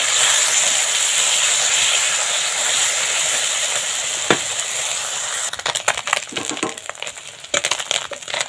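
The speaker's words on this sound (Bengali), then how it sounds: "এবার এই পুঁটি মাছগুলো ভেজে নেব" Small fresh puti fish, salted and coated with turmeric, fry in hot oil in a kadai, giving a steady close sizzle and hiss that turns to sharper crackles and spits as the fish are moved.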